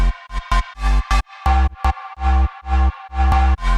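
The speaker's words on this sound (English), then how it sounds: "I layered it with some bass sound here" A loud synth line of short and sustained notes in a choppy rhythm, with a heavy low synth bass tone doubling the MIDI melody.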